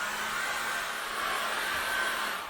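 A handheld hairdryer blows steadily on an acrylic landscape painting, giving a continuous, close, even whoosh of fan noise that holds at one level and tails off slightly at the end.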